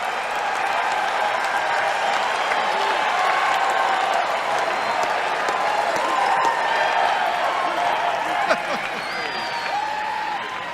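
Big crowd at Pat Buchanan's culture war speech applauding and cheering steadily, dense sustained clapping mixed with shouts and whistles that carries on for the whole stretch.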